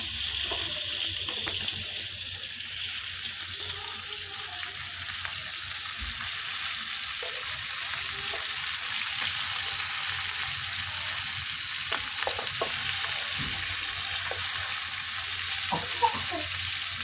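Hot oil sizzling steadily in a frying pan while hilsa fish cooks, a continuous bright hiss with occasional pops and splatters, close and fairly loud, with faint voices now and then.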